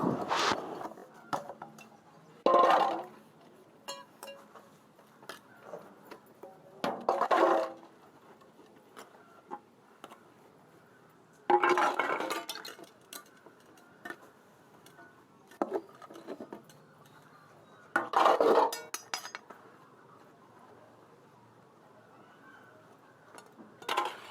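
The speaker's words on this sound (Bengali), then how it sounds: "চলো এখন সকালে আমি থালা বাসন মেজে নিই" Dishes, pots and pans are scrubbed by hand in a series of short, rough scouring bursts separated by quieter pauses with small clinks, close up and without talk.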